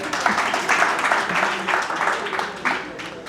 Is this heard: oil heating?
no